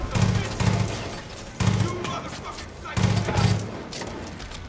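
Machine gun fire in the video game Far Cry 5: three heavy bursts of rapid shots with short gaps between them, loud and close, with a voice briefly heard among the bursts.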